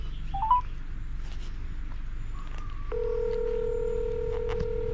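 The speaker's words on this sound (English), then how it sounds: "I'm going to give him a phone call, let him know we're heading that way." A phone dials out with a quick run of clear keypad tones, then a steady call tone holds. Faint background hum runs underneath and no voices are heard.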